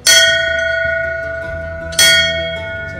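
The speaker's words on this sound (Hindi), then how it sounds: "अब हल्की सी एक बारी जरा घंटी को बजाते हैं, ठीक है जी?" Two loud, ringing strikes of a temple bell in a mountain village, the first at the start and the second about two seconds later, each with a long shimmering decay.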